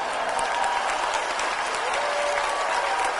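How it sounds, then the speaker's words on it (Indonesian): An audience at a national seminar with a thousand teachers and rectors in Indonesia claps steadily, a dense, loud wash of applause holding evenly throughout without breaks. "Sekali lagi tepuk tangan yang meriah"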